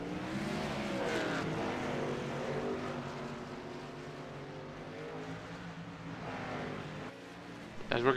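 Race cars in the iRacing game at Talladega, a continuous engine drone with shifting pitch as cars pull out onto the track, moderately loud, with a short louder burst at the end.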